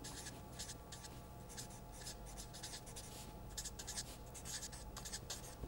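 Chalk or pen scratches and taps steadily across a board during a mathematics lecture on interpolating polynomials, short bursts of writing strokes repeating throughout at a soft, even level.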